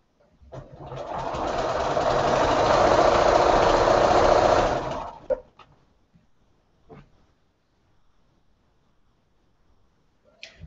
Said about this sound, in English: Now I'm going to just sew the next 3 to these 2 patches